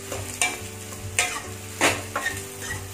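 Onions and green chillies sautéing in a pan for a green peas masala gravy, with a steady sizzle and fry crackle broken by several louder stirring scrapes.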